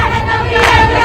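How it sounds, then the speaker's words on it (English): Cheering crowds at the 1969 bloodless coup in Libya, a loud sustained roar of many voices with shouts rising above it, heard up close. "cheering crowds as the young Colonel Gaddafi seizes power from the monarchy in a bloodless coup"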